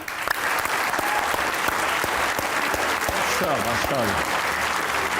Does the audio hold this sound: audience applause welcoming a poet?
yes